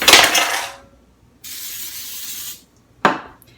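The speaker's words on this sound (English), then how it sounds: "Let me spray my pan a little bit here." Cooking spray hisses onto a baking pan for an apple cake in three bursts: a loud opening spray, a steadier second burst, and a short final puff, close and without talk.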